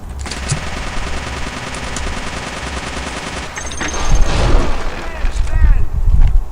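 Gunfire in the video game Return to Castle Wolfenstein: rapid automatic weapon fire rattles continuously, then gives way to heavier booming shots and blasts, loud and close, with a voice talking partway through.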